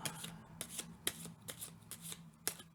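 Tarot cards are shuffled with quick, papery riffles, a soft rapid flutter repeating at close range in a quiet room.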